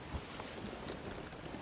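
Steady wind over open sea in the pirate game Sea of Thieves, a broad continuous rushing hiss with faint sloshing water, heard alone.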